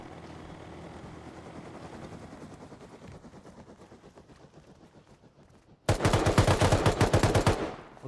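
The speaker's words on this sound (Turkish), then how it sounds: "Çalıştır helikopteri." A low engine rumble fades, then a loud rapid thumping rotor burst comes in abruptly near the end as a helicopter starts in the video game Rust.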